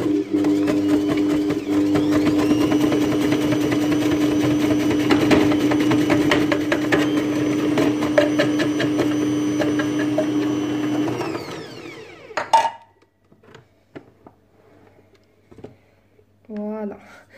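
Bosch multi-purpose food processor slicing carrots, a loud continuous motor whine with chattering blade noise for about twelve seconds before spinning down, followed by a few clatters and brief speech.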